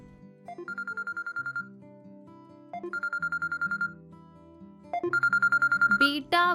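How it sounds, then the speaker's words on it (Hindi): A phone rings in three bursts of rapid electronic trilling, each about a second long, separated by short pauses, with a faint musical background underneath. "अरे फोन देख, किसका बज रहा है?"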